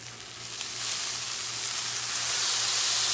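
Butter sizzling in a 10-inch gourmet skillet over medium-low heat, a steady bright hiss that swells and grows louder over a few seconds, with a low hum underneath and no talking.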